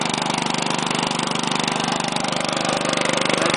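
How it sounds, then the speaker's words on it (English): A Honda 5hp engine idles steadily on a Craftsman air compressor, a loud, continuous, even chugging hum close by with no talking. "the motor goes into a lower idle and everything"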